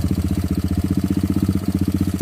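A motocross motorcycle engine idles on a trail with a steady, rapid low-pitched chug, loud and close, with no talk over it.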